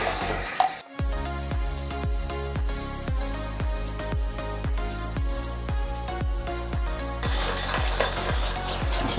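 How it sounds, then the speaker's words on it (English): A whisk clinks rapidly and rhythmically against a bowl, beating a thick peanut butter Dalgona whipped drink mixture in a steady run of sharp metallic taps, close and clear with no talking. "And once it does, you'll find that it whisks just like the rest of them."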